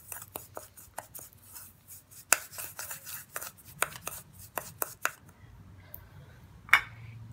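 Facial scrub ingredients are mixed with a tablespoon of olive oil in a bowl, giving a string of sharp, irregular clicks and scrapes of a spoon against the bowl over faint background hum, close and fairly quiet.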